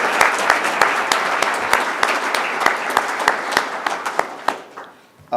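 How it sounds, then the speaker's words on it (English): Strong round of applause from a morning audience at a company gathering, many close claps in a dense stream that thins out and fades near the end before a brief sound cuts in. "So I'd like to give him a round of applause this morning."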